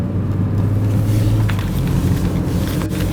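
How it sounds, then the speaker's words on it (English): A BMW 335i sedan drives along, its engine giving a steady low rumble with road and tire noise heard from inside the cabin, continuous and fairly loud. "I am back driving the new 335"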